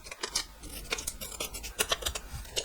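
Scissors cut through a strip of paper in a quick, steady series of close crisp snips, roughly four or five per second, with no talking.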